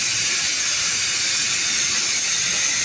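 Almond butter sizzles steadily in a hot pan beside a cheese paratha, a continuous bright hiss with no break and no voices over it.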